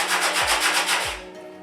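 Bike disc brake pad being rubbed flat on an abrasive surface to even its thickness, a quick run of rhythmic gritty scraping strokes, close and steady, fading at the end.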